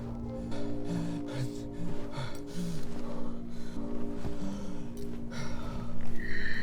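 Heavy, labored breathing from a man struggling for air after returning from the forest, repeated gasping and snorting breaths close by, uneven and strained, with no words spoken.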